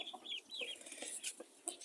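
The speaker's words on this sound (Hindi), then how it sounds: "ये देखें दोस्तों हमारी मुर्गी कुड़ुक है" A broody hen gives short, soft clucks in bursts with small pauses, close by and heard alone with no talking.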